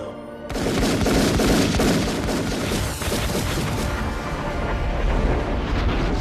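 Gunfire in a scene from The Matrix as Neo is shot, a dense loud burst of shots and booms starting abruptly and sustained throughout, with no talk.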